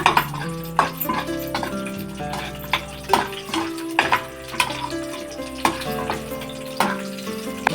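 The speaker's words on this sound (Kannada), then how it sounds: "ಚೆನ್ನಾಗಿ ಫ್ರೈ ಮಾಡ್ಕೊಳ್ಳೋಣ ಇದು ಮೆಣಸಿನ್ಕಾಯಿನ" Green chillies fry in hot oil for a chicken sambar, a soft sizzle under a steady rhythm of clinking and scraping utensil strokes against the pan, with music playing throughout.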